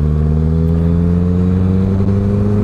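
A Honda CB650F motorcycle engine revs close and loud, a strong steady drone with clear engine harmonics that climb gradually in pitch as it accelerates.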